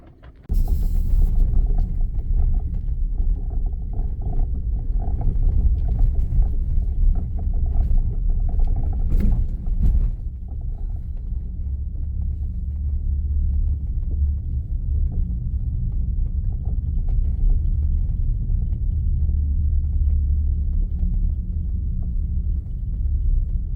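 A heavy 9,000-pound pickup truck rated at over 600 horsepower drives along muddy back roads in off-road mode. A loud, continuous low cabin rumble holds steady with a brief clunk partway through and no talking.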